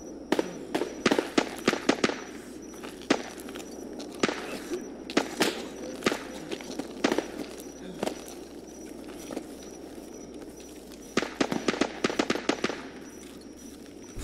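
Gunfire in Escape from Tarkov crackles in rapid clustered bursts of sharp shots, with short pauses between volleys and a fast flurry near the end, fairly close and loud.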